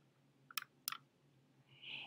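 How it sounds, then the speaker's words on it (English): Two crisp computer mouse clicks on a website tab, close and quiet in a near-silent room, followed by a faint soft tone. "So we'll click on the book tab here."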